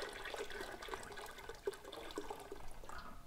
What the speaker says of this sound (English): We're going to fill our pot up with water.